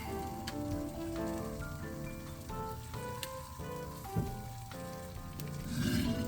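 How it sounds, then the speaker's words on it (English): Boiling water is poured over ramen noodles in a pot, giving a soft, hissing splash like rain, with faint tonal music underneath. "Pour over some boiling water."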